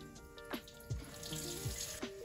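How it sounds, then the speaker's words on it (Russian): Round-grain rice rinsed under a running kitchen tap: a steady stream of water splashes into a sink, with brief sloshing and clinking as the grains are stirred, close and alone without talk. "Рис промываем под проточной водой для того, чтобы убрать всю вот эту пыль"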